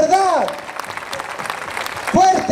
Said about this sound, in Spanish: Un fuerte aplauso para que Rosario escuche